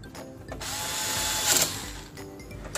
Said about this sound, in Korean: 저는 이제 전동 드릴로 해보도록 할게요.